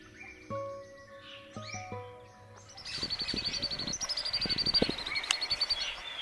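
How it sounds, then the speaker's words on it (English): Common babbler calls in a forest, a group of birds chattering in rapid, repeated chirps that grow louder and busier midway, with other faint bird notes beneath. "Do you recognize this bird? It is the common babbler."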